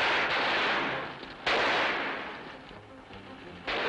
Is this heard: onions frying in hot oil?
no